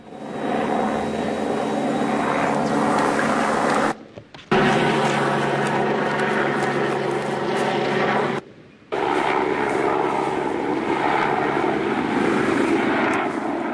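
More than one police helicopter flies overhead during a street protest, a loud, continuous rotor and engine roar that stays close and steady, broken by two short cuts.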